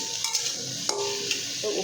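Okra fries in a pan in a home kitchen with a soft steady sizzle, broken by a few light clicks and scrapes of stirring.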